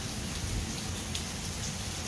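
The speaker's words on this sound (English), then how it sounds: "at least the rain is starting to slack off" Steady rain falls during a thunderstorm at a Friday tailgate, a constant broadband hiss with occasional faint drop ticks and no voices.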